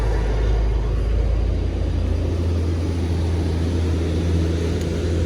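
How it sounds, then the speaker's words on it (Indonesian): A Hino Tronton truck passes on a mountain road with a loud, continuous low engine rumble and tyre roar that stays heavy and steady throughout, with no voices. "Ini bakalan rame nih truk yang lewat."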